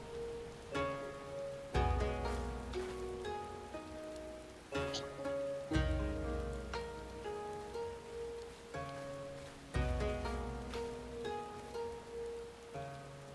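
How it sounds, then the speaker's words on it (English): Rain falls steadily in a Final Fantasy XIV scene, a soft continuous patter running beneath a slow, gentle melodic music bed with recurring chiming notes. "Just sitting in the rain."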